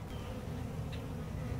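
Agitated bees swarming around a hive being cut out of a flower pot, a dense, steady buzz close to the microphone with individual bees passing near.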